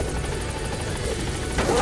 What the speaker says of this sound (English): let's get on that helicopter and get the hell out of here